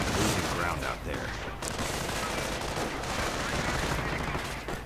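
Gunfire in a World War II strategy game as an American half-track opens up on riflemen: dense, continuous bursts of battle noise fill the whole stretch at steady loudness, with a commentator's voice faintly underneath.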